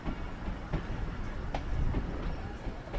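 A Rawalpindi passenger train slowing as it nears a small station platform, its steady low rumble and wheel noise rolling continuously with a few soft clacks, close and fairly loud, no voices.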